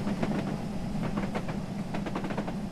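A little E14 steam locomotive in British Railways livery runs with a mixed train of Mark 1 and Mark 2 coaches in Train Simulator 2020, steady rolling rumble with rhythmic wheel clicks over rail joints.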